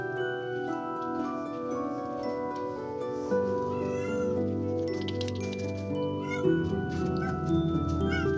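A blind kitten meowing and crying, repeated high, wavering meows close by over a continuous tonal background, with faint ticking and no talking.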